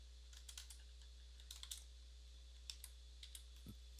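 Short burst of typing on a computer keyboard, light scattered key clicks near and quiet over a steady electrical hum.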